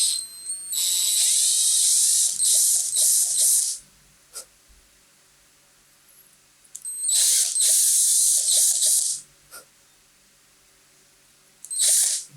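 Power drill boring a hole in softwood, two runs of high buzzing whine with stuttering load changes, separated by quiet pauses and a brief start at the end, close and loud, no talk.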